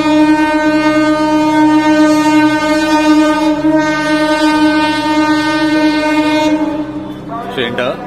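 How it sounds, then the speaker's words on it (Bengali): A train arrives near an apartment block, its loud sustained horn holding steady tones close by for several seconds before fading out. "এই যে বলছিলাম ট্রেন ঢুকছে, ওই ট্রেন ঢুকছে"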